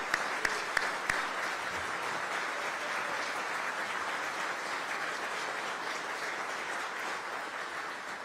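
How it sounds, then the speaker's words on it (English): Sustained audience applause at a city of Aurora civic event, a dense even wash of clapping from a large crowd that carries on steadily for the whole stretch. "Let's give them a round of applause."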